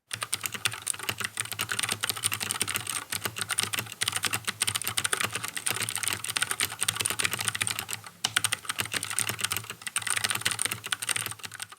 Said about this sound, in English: this is what the Keychron C2 sounds like with the clicky tactile Gateron Blue